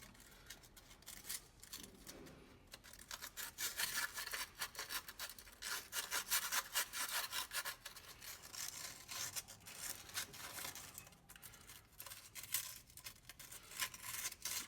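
Corrosion and limey crud are scrubbed off an MGB heater valve with fast, rasping strokes. The close, quiet scratching continues almost without pause and grows denser in the middle, with no talking.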